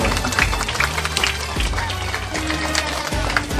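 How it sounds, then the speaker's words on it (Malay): An audience applauds the winner at a Quran recitation competition's prize announcement, with steady crowd clapping over a low hum and a voice talking underneath. "Berikan tepuk tangan kepada sang juara."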